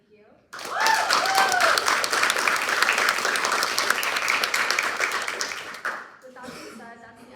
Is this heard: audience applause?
yes